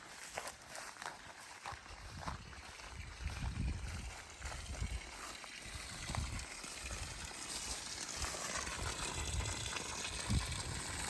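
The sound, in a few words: water stream pumped by an off-grid solar water pump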